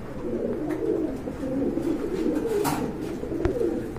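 Pigeons, including a pair of Danish pigeons in a loft, coo in low, steady murmurs throughout, with soft overlapping calls and faint background bustle.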